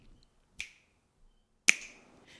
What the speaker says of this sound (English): I'll record a snare by clicking,